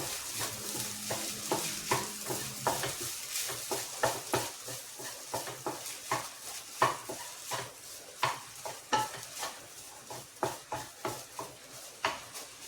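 Food in a pan being stirred vigorously after pepper powder goes in, a steady run of sharp spatula scrapes and clinks against the metal over a soft background sizzle, close and fairly loud.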